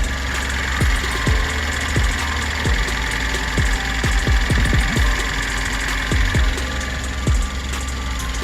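A tuned Cadillac ATS sits stationary at idle, its engine giving a steady low throb with a rough, uneven undertone and occasional faint knocks. The sound carries on evenly from up close, with no one speaking.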